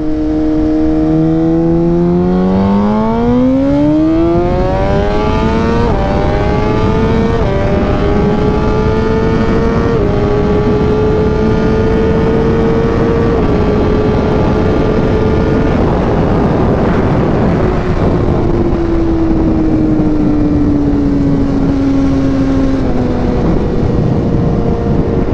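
A 2018 Suzuki GSX-R1000R sportbike engine winds up hard in first gear, its loud rising howl climbing steadily in pitch over many seconds before easing off near the end, with no talk over it.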